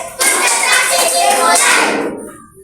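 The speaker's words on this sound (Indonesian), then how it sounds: "Oke, tepuk konsentrasi." Fourth-grade class of children doing a rhythmic concentration clap in a classroom, loud and close, with a burst of patterned claps and young voices chanting along before trailing off.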